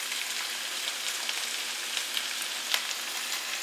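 Onions and garlic frying in a pan for a spinach pie, a steady close crackling sizzle with faint spitting pops and no voices.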